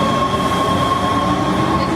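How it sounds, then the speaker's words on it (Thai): Inside a Los Angeles Metro subway car underway underground, a loud steady roar of wheels on track with a sustained high metallic whine ringing over it, no one speaking. "ตอนนี้คือบรรยากาศในรถไฟฟ้าใต้ดิน"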